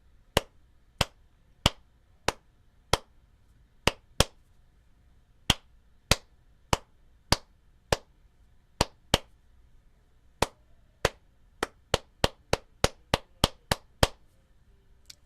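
Sharp hand claps in a singing class land one at a time in a steady rhythm, about two dozen of them, speeding up near the end. They are close and crisp against a quiet room with no talking.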